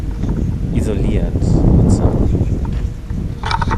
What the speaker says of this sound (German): Also es ist sehr windig gerade